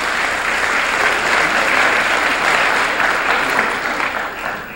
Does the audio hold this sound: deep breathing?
no